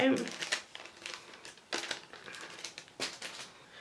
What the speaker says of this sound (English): All I'm going to do is just trim this down, just like so.